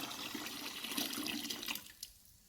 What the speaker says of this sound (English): I'll just pour the cool water in, fill it up to my desired height